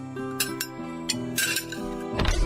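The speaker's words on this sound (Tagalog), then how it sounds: "maglagay na tayo ng mga plato at kubyertos dito sa lamesa" Plates and cutlery set down on a table, giving a few scattered clinks and clatters of dishes and metal utensils over a musical background, close by.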